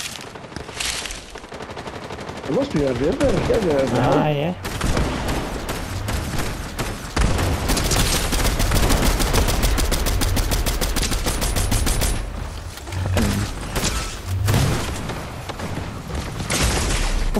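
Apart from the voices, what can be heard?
gunfire in the video game Fortnite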